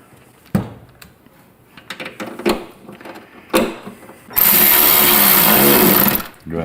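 Saddlebag tether screws on a Harley Softail are driven in with a power driver. Scattered knocks and clicks come first, then a loud, steady whir holds for about two seconds and cuts off.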